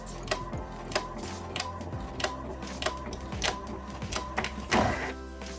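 A home printer runs a job printing stickers, giving steady mechanical whirring with rapid ticking and clicking from the print head and paper feed, and a brief louder burst near the end, heard alone at close range.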